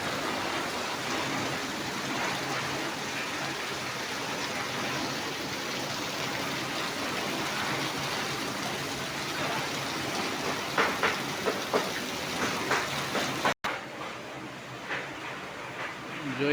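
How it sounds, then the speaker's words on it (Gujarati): Heavy torrential rain pours outside a shop in a dense, continuous roar that stays loud and steady, with a few brief knocks near the end and a short cut. "એ હાંબેલાધાર વરસાદ પડે છે"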